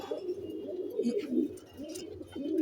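Pigeons coo softly and repeatedly in a low, rolling rhythm, overlapping calls close by at low volume, with no voices over them.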